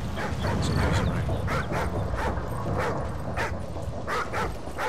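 A dog barks and whimpers in the Call of Duty: Ghosts video game, a series of short, repeated yips and barks at a fairly even rhythm over a constant, noisy game background.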